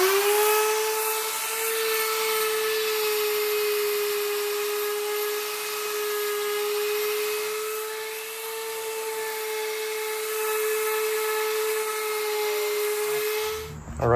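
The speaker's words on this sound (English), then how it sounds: "Just the old reliable there, the Ryobi Sander." A Ryobi power sander runs steadily on scrap wood with 240-grit paper, a sustained whining hum with a constant pitch and airy hiss, close and loud, cutting off abruptly at the end.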